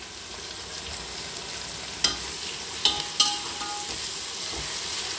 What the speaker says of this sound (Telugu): ఇవి గోల్డెన్ బ్రౌన్ కలర్ వచ్చేంత వరకు ఫ్రై చేయాలండి. ఇది ఫ్రై చేసేటప్పుడు మనం సాల్ట్ వేసుకోవాలండి